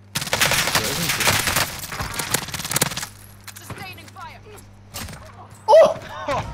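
Video game gunfire, a loud, close, rapid automatic burst lasting about three seconds, followed by quieter game sounds while voices talk.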